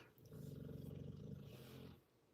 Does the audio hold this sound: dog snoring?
yes